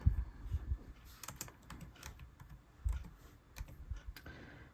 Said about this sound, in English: I'm going to type her name.